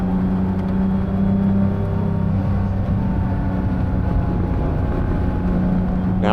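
A 1981 Porsche 911 SC with an air-cooled engine drives along, a loud, steady, droning engine note with a dense low rumble and whirring wind noise, holding a constant pace throughout.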